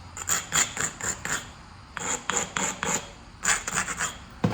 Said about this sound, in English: we need to abrade quite heavily to take off good flakes